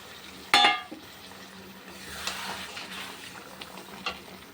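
Water poured into sizzling fish curry masala in a pan sets off a sharp, loud burst of hissing, which quickly settles into a quieter, uneven sizzle with occasional soft clinks.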